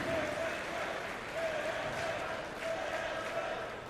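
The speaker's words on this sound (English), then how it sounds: "You can hear the cheers in the crowd right now after such a great push there from Saudi Arabia" A large esports arena crowd at the Overwatch World Cup applauds and cheers in a steady, dense roar for about four seconds.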